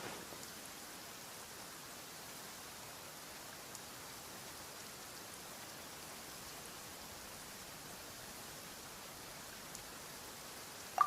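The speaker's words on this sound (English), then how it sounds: "Why is it raining all of a sudden?" Steady, soft rain hisses evenly throughout, a constant gentle patter with no other sounds standing out, in the video game Genshin Impact.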